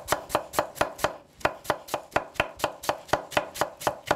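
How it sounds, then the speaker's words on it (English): Onion chopped quickly with a knife on a cutting board, about twenty close, loud, evenly spaced cuts in a fast steady rhythm with no talking. "I have onion that I chop really quick."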